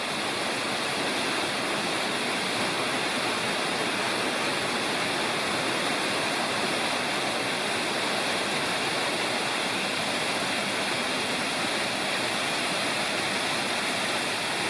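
A waterfall swollen by heavy rain roars in a dense, steady, unbroken rush heard from close at its base in a state natural area, with no voices.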